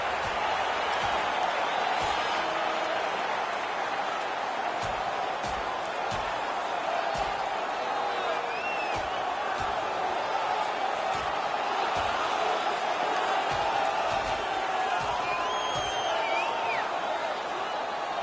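A video game ice hockey crowd roars continuously in a rivalry game, a dense, loud, sustained cheer with scattered thuds and whoops throughout.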